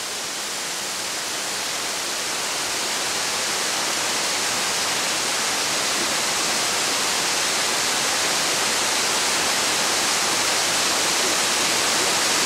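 Yeonsan waterfall in Yongchu Valley of Naeyeonsan, Pohang, pours down in a steady, dense, loud rush of falling water that holds unchanged throughout, with no voices.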